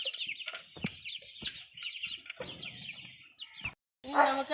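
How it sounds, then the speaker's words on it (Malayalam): Fancy chickens at a farm cluck and chirp in short, repeated calls close by, with scattered rustling and a louder burst near the end. "ഇത് നമ്മുടെ ഫാൻസി കോഴികളാണ്"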